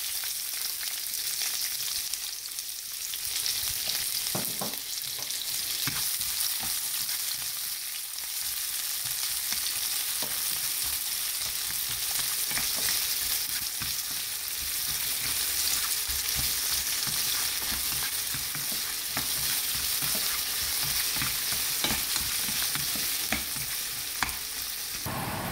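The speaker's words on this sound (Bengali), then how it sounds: "এক কাপ পরিমাণ পেঁয়াজ আর রসুন ভেজে নিব।" Onion and garlic fry in a pan with a constant loud sizzle, and frequent small taps and scrapes of stirring run throughout.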